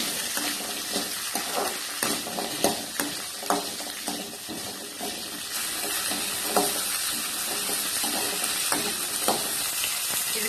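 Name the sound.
small onions sautéing in pan for anchovy curry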